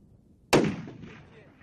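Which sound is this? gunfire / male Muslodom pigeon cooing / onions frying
gunfire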